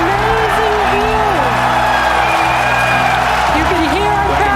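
Spectators cheering and clapping as SpaceX side boosters land on their pads, a steady roar of applause and shouts mixed with a commentator talking over it.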